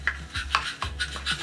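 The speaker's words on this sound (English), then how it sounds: "if I want to condition this slate, I can pull out this little Scotch-Brite pad" A Scotch-Brite pad rubs back and forth across the slate surface of a turkey pot call, making several close, short raspy strokes in an uneven rhythm with no talking.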